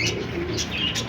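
A pigeon gives a few soft, close coos over a brief moment, with faint chirps around it.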